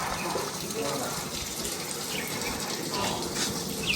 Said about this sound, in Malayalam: ക്ഷേത്രത്തിൻ്റെ ഉള്ളിലോട്ട് വെള്ളം പോകുന്ന ഒരു സംഭരണി.